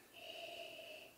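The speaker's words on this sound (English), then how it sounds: "Let's have a sniff." A single quiet, drawn-out inhaling sniff over a glass of 12-year-old Galway Pipe Grand Tawny Port, close and soft, with nothing else heard.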